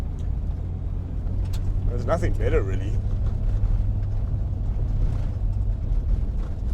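A 1992 Toyota Land Cruiser 80 Series 4500GX driving, a steady low engine drone heard from inside the cabin under people talking.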